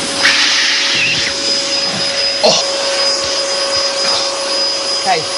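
A vacuum pump runs on a climbing vacuum pad, a loud, steady whine with a constant high-pitched tone, with a few faint knocks and rustles underneath.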